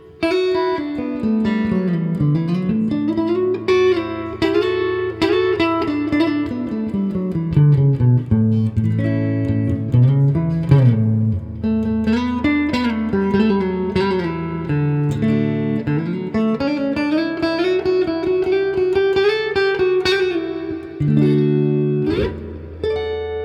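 A single electric-sounding guitar plays a continuous run of notes and chords, moving up and down steadily for over twenty seconds without pause.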